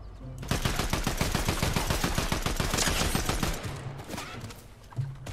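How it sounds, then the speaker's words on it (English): Rapid automatic gunfire from a Fortnite match in builds mode, a dense stream of shots for about three and a half seconds that then thins out, with a few scattered reports near the end. "Is there someone else shooting?"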